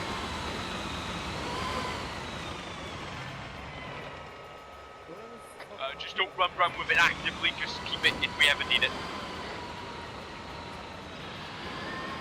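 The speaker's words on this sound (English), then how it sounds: "Very, very loud engine of a tank 30 meters away." A very loud tank engine runs about thirty meters away in a military realism game, a steady heavy rumble throughout with a burst of sharper mechanical clatter midway, under a voice talking.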